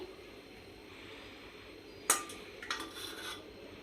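Mint chutney ingredients stirred in a pan with a little oil, a soft background hiss broken by a sharp clink of the utensil against the pan and a few lighter scrapes, close.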